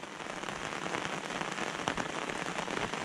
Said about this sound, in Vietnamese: Vì trời mưa xuống thế này